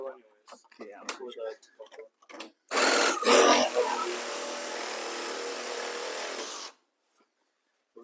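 Power tool cutting into the front end of a 2015 Silverado 2500HD during collision repair, a loud steady grinding whir lasting about four seconds after someone speaks in short bursts, then stopping abruptly.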